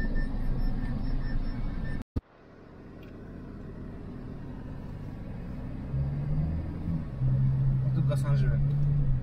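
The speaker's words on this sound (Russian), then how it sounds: "Покатаемся на большой машинке" A diesel car runs after a sharp door slam, its engine rumbling low and steady as it pulls away and drives, with people talking inside over the noise.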